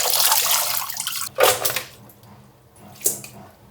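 Food being rinsed under a running kitchen tap, with a steady rush of water that breaks into two louder splashing bursts as the items are moved through the stream.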